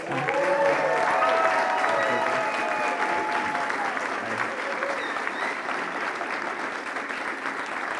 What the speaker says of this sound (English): could you give a big round of applause for the two organizers?